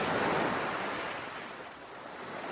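Ocean surf rolls onto the shore in a loud continuous roar that swells and eases slightly, with wind rushing over the microphone.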